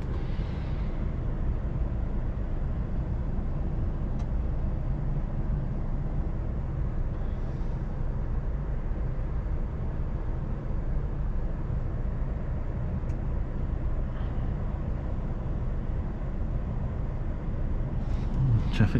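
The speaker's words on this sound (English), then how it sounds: "Traffic's still flooding through." Steady road traffic flooding through a London street, a continuous low rumble of passing vehicles with occasional brighter swells, heard from nearby throughout.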